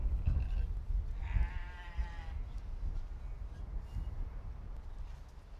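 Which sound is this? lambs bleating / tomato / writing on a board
lambs bleating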